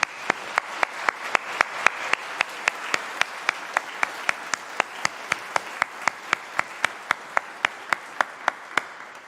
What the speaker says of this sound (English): And that merits a loud round of applause from all of us.